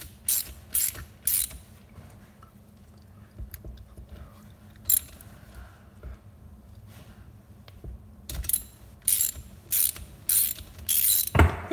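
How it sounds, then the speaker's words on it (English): A ratchet wrench clicks while a Predator 212 engine is reassembled, with short bursts of close, sharp ratcheting spread across a quiet stretch and several quick runs near the end. "Would help if your ratchet goes the right way."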